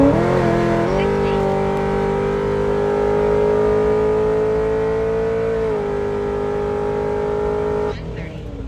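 A Chevrolet Corvette Grand Sport accelerates hard in a steady, rising engine roar that holds for several seconds before easing off near the end, loud and close.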